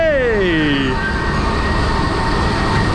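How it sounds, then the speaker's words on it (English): Matterhorn Blitz roller coaster trains climb the lift hill at Europa Park, giving a steady mechanical rumble and rattle, with a descending whistle-like tone at the start and a loud, continuous presence throughout. "Really cool lift hill, so two trains can actually come in here at the same time."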